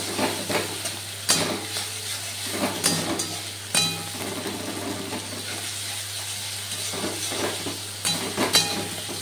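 Ginger and green chili paste frying with spices in a pan for a Bengali kalia curry, a continuous sizzle broken by repeated sharp stirring clacks and scrapes of a spoon against the pan.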